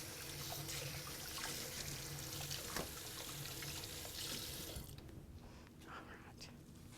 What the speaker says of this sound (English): Wash me a spoon real quick.